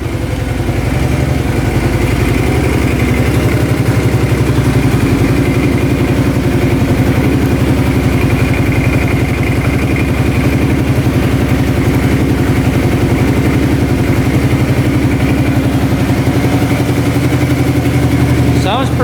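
An ATV engine idles steadily after a carburetor clean and valve adjustment, a loud, even, close-up rumble running unbroken throughout.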